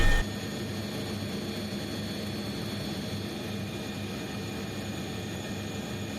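An Alidaunia scheduled passenger helicopter flying in Italy fills the cabin with a steady, dense engine and rotor drone that holds constant and loud throughout, with no voices.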